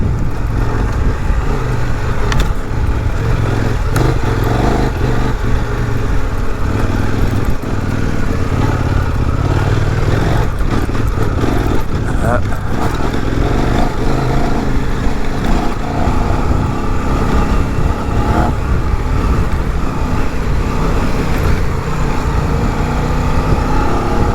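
A Kove 800X Rally adventure motorcycle engine revs and pulls hard off-road, a loud, continuous roar that rises and falls with throttle and never lets up, close to the rider.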